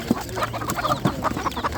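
Several chickens cluck and squawk at a poultry market in Ganja, a run of short, fairly close calls over a busy background hum.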